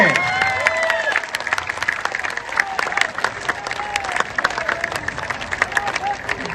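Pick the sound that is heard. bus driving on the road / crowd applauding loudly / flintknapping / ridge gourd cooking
crowd applauding loudly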